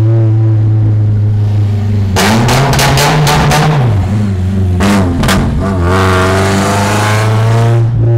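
A BMW E36 drives through the streets of Elmshorn, its engine droning steadily from inside the car, then revving sharply through several quick gear changes before settling into a smooth cruise.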